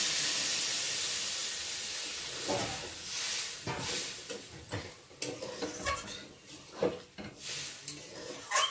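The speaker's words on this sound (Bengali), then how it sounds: "এবার আমি জল দিয়ে দেবো, বেশি জল দেবো না যেহেতু আলুটা সেদ্ধ করা।" Water poured into a hot pan of boiled potatoes, a hissing burst of steam that settles into bubbling with irregular stirring and scraping clatter, close and moderately loud.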